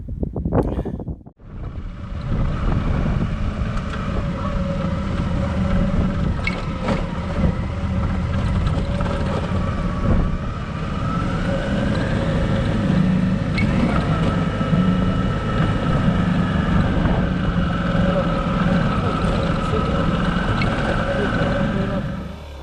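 A 2015 Suzuki V-Strom adventure motorcycle engine works its way over the steep steps of Black Bear Pass, a continuous close rumble with a rising and falling whine, mixed with wind buffeting for over twenty seconds.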